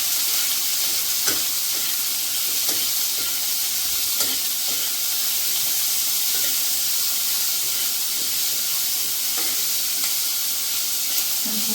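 Chopped onions sizzle and fry steadily in a pan, a continuous dense hiss with occasional soft stirring knocks, no talking.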